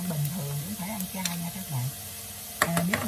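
Hot oil sizzles in a pan while tofu cooks for a home-style dish, a steady frying hiss with a low warbling tone and brief clatters of stirring near the end.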